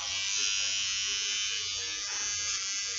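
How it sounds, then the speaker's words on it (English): A small electric eyebrow trimmer buzzes steadily and close, a bright continuous whine that runs the whole time while someone talks quietly over it. "It's an epilator or one of those things"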